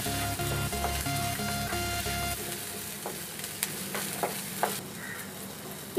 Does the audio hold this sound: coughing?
no